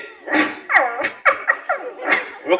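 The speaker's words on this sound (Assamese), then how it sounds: "এটি কুকুৰৰ পোৱালি" A puppy yips and barks close by in a rapid run of short, high, whiny calls with brief gaps between them.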